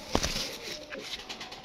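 Pigeons coo from a rooftop loft in Gujranwala, a short burst of soft, throaty calls near the start followed by quieter cooing against faint background noise.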